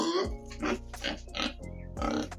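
Pig in a deep litter pen of wood shavings on a pig farm, grunting and oinking close up in several short, loud bursts.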